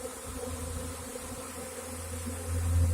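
A honey bee swarm gathers at a modified Warre bait hive in May, a continuous close buzzing drone that swells louder near the end, with no voices.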